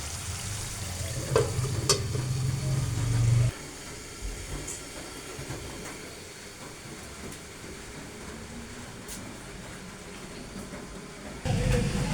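Meat cooks in a pan with a steady, close sizzling hiss throughout, a heavier low rumble under it at the start and again near the end; no one speaks.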